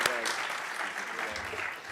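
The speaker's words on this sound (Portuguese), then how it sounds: "Uma salva de palmas," Audience applause at an international Mercedarian congress in a church setting, a steady wash of clapping that continues for the whole moment beneath a faint voice.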